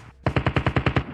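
Automatic gunfire in the mobile shooter game Call of Duty Mobile, a rapid burst of about eight loud, evenly spaced shots, close and punchy, following a brief quiet moment.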